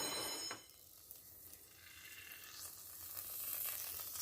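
Coconut oil heating and being swirled in a pan on the stove, giving a faint, soft sizzle that builds gently with no one talking.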